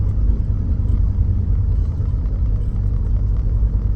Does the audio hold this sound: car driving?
yes